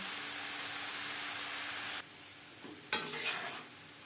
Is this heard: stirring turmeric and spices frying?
yes